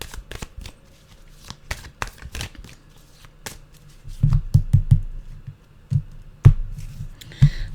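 Tarot cards are shuffled by hand in soft, irregular riffles and taps, close and moderately loud, with sharper thumps of cards knocking together in the later half.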